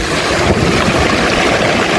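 Ocean waves surge and splash over a person near the shore below Malabrigo lighthouse in Lobo, Batangas, a steady loud broadband wash of water mixed with wind buffeting the microphone, continuous throughout.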